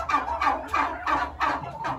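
A turkey gobbles close by in a quick series of five or six rattling bursts, evenly spaced and fairly loud, with no voices over it.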